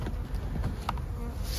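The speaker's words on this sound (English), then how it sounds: "Bees are coming up for it." Bees buzzing around a hive feeder during fall feeding, a dense, continuous close hum of many insects with a few brief louder passes.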